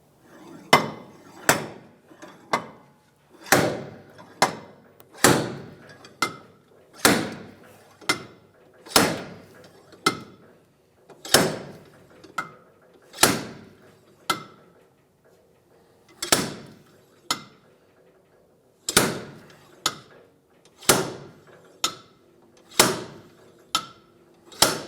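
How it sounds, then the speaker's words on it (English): Hub puller working a rear wheel hub off a 2003-2011 Honda Element, a series of sharp metallic impacts in uneven bursts of two or three, loud and close, with quiet gaps between strikes. "So now that we have our puller in place, mounted to a few studs, we're going to try and pull out our hub."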